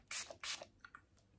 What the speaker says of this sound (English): I'm going to set this all with the Wet n Wild Passion Session Face Mist.